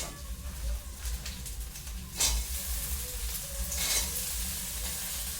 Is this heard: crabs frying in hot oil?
yes